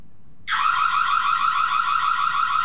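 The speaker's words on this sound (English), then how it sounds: "Audio alarm." A Safire smart CCTV camera sounds its audio alarm, a loud, steady electronic tone that starts abruptly after a short pause and holds without a break to the end, with no voices.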